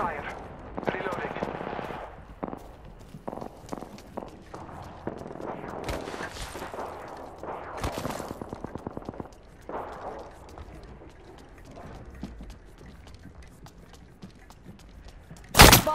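Apex Legends gunfire plays in scattered bursts of sharp shots and rattling automatic fire, moderately loud within a busy game mix, with a heavy thump at the very end.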